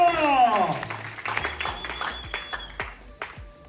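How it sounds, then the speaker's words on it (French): Audience at a business opportunity presentation applauds the mentors, a loud burst of clapping that tapers over a few seconds, with harmonic tones sweeping down at the start and scattered sharp claps continuing. "Est-ce qu'on peut applaudir très fort pour"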